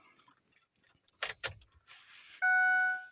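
Keys jangle and turn in the ignition of a Powerstroke 6.0 diesel truck, a few soft metallic clinks and rattles followed by a loud steady electronic chime that rings out for about a second.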